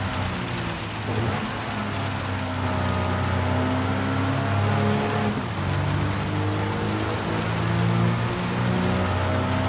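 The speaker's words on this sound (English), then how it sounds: "here comes the rain" Rain hiss in the Gran Turismo 7 racing game, a steady broadband wash laid over a loud, continuous car engine drone with shifting harmonic tones, no voices.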